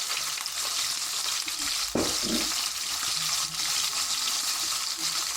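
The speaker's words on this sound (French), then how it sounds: "dans cette huile chaude, juste de l'huile, on va marquer notre viande" Veal mignon searing in plain hot oil, a steady close sizzle and crackle running throughout, with a brief clatter near the two-second mark and no talking.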